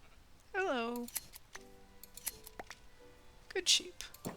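Metal shears snip wool from a Minecraft sheep in an All the Mods 11 modpack, giving a couple of quick crisp clipping sounds amid soft game noises. A brief rising animal call comes just before.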